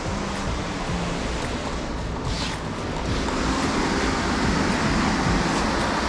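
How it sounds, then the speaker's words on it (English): Rushing water from a mountain stream is heard from a tea house room on the Sandakphu Phalut trek, a steady broadband roar that stays constant and fairly close throughout, with no voices. "From the room you can hear the sound of the water"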